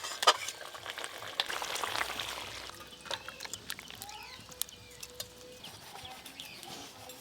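Fish roe frying in well-heated mustard oil, a steady soft sizzle strongest in the first few seconds, then thinning into lighter crackles and scattered pops with faint clinks.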